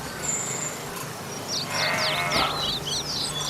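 A flock of sheep in Canaan bleats, several overlapping wavering calls rising midway and repeating for a couple of seconds over a quiet outdoor background, with no talking.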